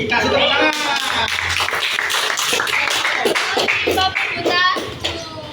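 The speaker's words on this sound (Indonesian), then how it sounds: "Kasih tepuk tangan." Group of students clapping together in a classroom, a dense, steady patter of hands lasting several seconds with children's voices mixed in, tapering off near the end.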